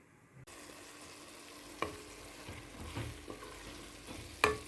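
Tomatoes and coriander cooking down in a pan for a coriander chutney, giving a quiet, soft sizzle broken by occasional stirring scrapes and a louder clink near the end.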